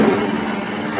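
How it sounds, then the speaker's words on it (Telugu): A 2 HP single-phase motor drives a semi-automatic hydraulic double-die paper plate making machine, giving a steady, close mechanical hum with a constant tone and no speech. "2 HP మోటార్ సౌండ్ వినిపిస్తుంది"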